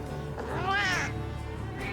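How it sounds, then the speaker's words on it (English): A cat in Monster Hunter Wilds makes a strained, retching throw-up sound, a wavering rising and falling cry over a steady game backdrop. "The cat is throwing up."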